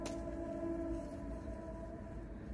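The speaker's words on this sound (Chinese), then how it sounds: "好像这旁边有火车哎" A train passing near a small park at night, a steady low rumble with a sustained tonal hum, heard alone and faint at a distance.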